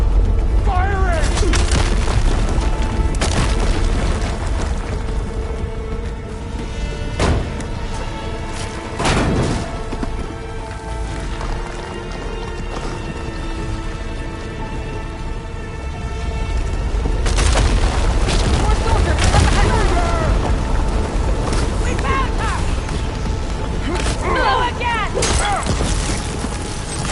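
Heavy booms and gunfire in Horizon Forbidden West, deep explosive thuds and mechanical clatter rolling through a long battle scene, with character voices shouting over the din.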